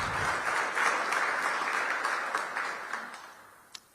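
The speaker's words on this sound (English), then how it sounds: "Give DPW a big round of applause." Audience applause honoring city sanitation workers at a mayoral union agreement signing, a steady wash of many hands clapping at moderate distance that slowly fades out, ending with a single sharp tap.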